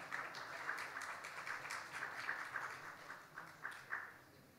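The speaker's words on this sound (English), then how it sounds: "big round of applause" A conference audience at a climate crisis session applauds a panelist, a steady wash of clapping with a few sharper bursts, moderately distant and fairly soft, with no talk over it.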